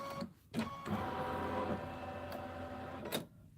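An embroidery machine stitches a tree placement line on a Kimberbell design, a steady mechanical whir with rhythmic clicks and a few sharper taps, fairly quiet and with no talking.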